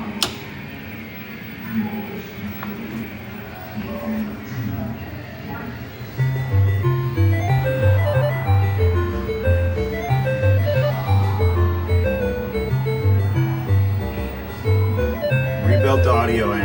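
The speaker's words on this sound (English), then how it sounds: "Sound test for Popeye." Popeye arcade game running its sound test after an audio amplifier rebuild: bright electronic melodies and beeping tones, quieter at first, then a louder repeating bassy tune with chiming notes, some faint voice underneath.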